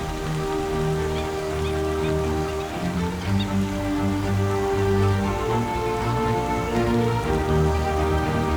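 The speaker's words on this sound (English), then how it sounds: "The long-awaited rain is a gentle, quenching relief after many months of gasping heat." Rain falls on parched African land after months of heat, a close, steady patter of drops that stays even throughout, mixed with a soft rustle and a low droning background.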